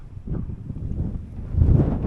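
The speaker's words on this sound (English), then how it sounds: "Still a bit breezy, but not too bad." Low wind buffeting a microphone outdoors at a stone circle in remote woodland, rumbling unevenly and swelling louder near the end.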